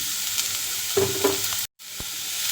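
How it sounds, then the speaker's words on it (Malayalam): Finely chopped onions frying in oil while okra milk curry is made, an even soft sizzle with a couple of light stirring scrapes and a brief break near the end. "ഇതേ ഓയിലിൽ തന്നെ ഉള്ളി മൂപ്പിച്ചെടുക്കാം ഉള്ളി ചെറുതായി അരിഞ്ഞ് ആ സവാള അങ്ങ് ചേർത്ത് കൊടുക്കുകയാണ്"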